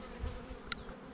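Honey bees buzz around a hive during queen rearing, a low steady hum close by with one brief sharper sound partway through, no voices.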